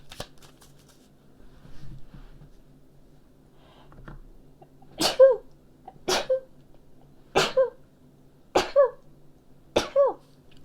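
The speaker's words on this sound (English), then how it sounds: "oh, I'm gonna sneeze" A person sneezes about five times in a row during a tarot card reading, each sharp burst close and loud with short quiet gaps between, after faint card shuffling and rustling at the start.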